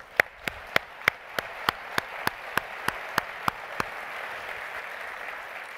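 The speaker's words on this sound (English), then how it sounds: "So can we clap it up for our families?" Applause at a keynote event: a steady rhythmic series of sharp single claps, about a dozen evenly spaced, over a faint wash of crowd clapping that fades out toward the end.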